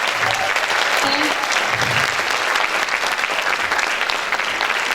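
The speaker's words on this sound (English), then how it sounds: "let us give a huge round of applause to all of our graduates of 2019" A large audience applauds graduates of 2019 at a school honours day ceremony, steady dense clapping filling the hall throughout, with faint voices mixed underneath.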